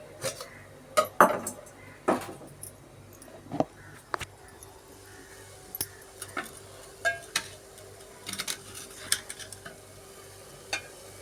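Metal pots and bowls clink and clatter in irregular bursts close by while prawn curry cooks, with a faint sizzle underneath and no voices.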